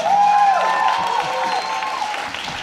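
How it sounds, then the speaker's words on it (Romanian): Concert audience applauding at a live show, a broad crowd clapping under a sustained held tone from the stage, fading slightly toward the end. "Aplauze pentru ele."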